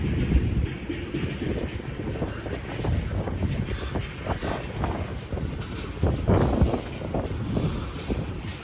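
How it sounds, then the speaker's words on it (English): Long CP freight train rolling past near an international bridge, a steady heavy rumble of railcars with rhythmic clanks and wheel clicks, buffeted by wind noise on the microphone, continuous and close. "Oh, this is a long train, huh?"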